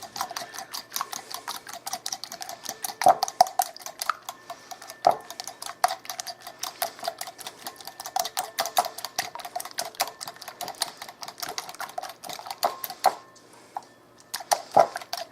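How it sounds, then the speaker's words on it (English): Eggs are scrambled in a bowl for a lemon blueberry bundt cake. A whisk or fork clicks rapidly against the bowl in a fast, steady rhythm with a few louder knocks, close and alone. "I'm gonna scramble up these eggs."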